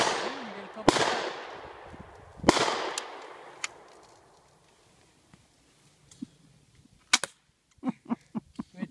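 An airsoft M4 rifle fires a few sharp cracking shots outdoors, each followed by a fading echo, with several quieter snaps afterward and a voice speaking briefly.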